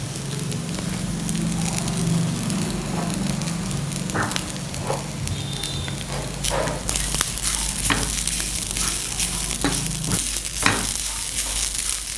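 Chutney ingredients, including tamarind, coconut and asafoetida, roast in a pan with a steady sizzle and crackle, while a spatula scrapes and stirs in occasional close knocks throughout.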